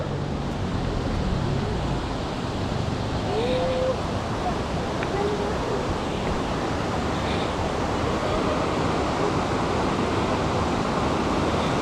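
A river rushes near a hot spring resort, a steady, broad, loud roar of flowing water that stays constant throughout with faint voices in the background.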